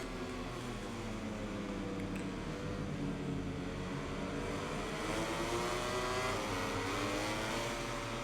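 Racing motorcycle engines in the MotoGP 21 video game whine and rise and fall in pitch through gear changes. The sound is steady and continuous at a moderate level, with no talking.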